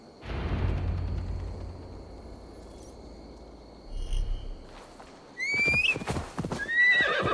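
Hoofbeats of a horse ridden through a forest in Gloucestershire in the video game Assassin's Creed Valhalla, a steady clip-clop under ambient insect and bird noise, followed by a louder snort or whinny and sharp bird calls near the end.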